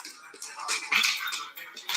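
A nervous dog whimpers and whines in short high-pitched bursts, close by and fairly loud, with a faint sniff or shuffle between cries.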